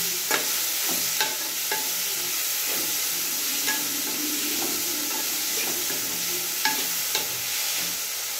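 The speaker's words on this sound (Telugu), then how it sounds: "ఆల్రెడీ రైస్ ఉడకబెట్టి పక్కన పెట్టిన. కలిపేస్తున్నా." Boiled rice being stirred into vegetables in a hot pan, giving a continuous soft sizzle and hiss, punctuated by periodic sharp clicks and scrapes of the spoon, close by and with no talking.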